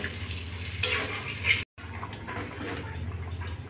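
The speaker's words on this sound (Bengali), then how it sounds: "ঝোলটা টক টক করে ফুটে গেছে" Potato curry gravy simmers in a pan on low to medium heat, giving a soft, steady bubbling and faint sizzle. A brief dropout breaks the sound before the quiet bubbling resumes.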